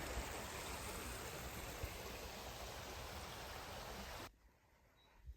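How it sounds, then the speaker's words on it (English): Steady, broadband rushing of a flowing mountain stream on a hiking trail near St Jean Pied de Port fills the scene, then cuts off abruptly near the end, leaving faint quiet background. "The wonderful sound of flowing water."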